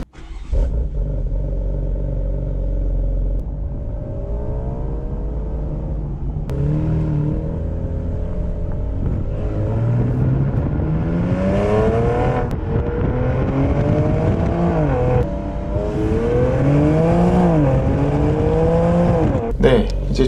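Car driving along with steady engine drone and road noise, the engine note rising and falling through gear changes and accelerations, close and continuous throughout.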